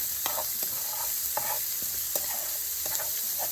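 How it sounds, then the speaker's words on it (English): Four colors of bell pepper, onion and garlic sauté in a hot pan, a soft constant sizzle broken by regular scraping stirs of a utensil every half second or so, close and clear, no talking. "So we're gonna give this a nice saute."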